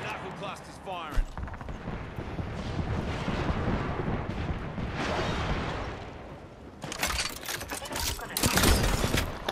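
A Knuckle Cluster launcher fires in an Apex Legends match, with heavy booming and crackling blasts rolling through a noisy scene, swelling again strongly toward the end.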